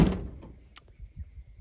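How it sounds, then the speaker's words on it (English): The driver's door of an HJ45 Land Cruiser is swung shut, giving a single solid thunk at the start followed by faint rattles and small knocks, close by. "I'd love it if my driver's door would shut one time."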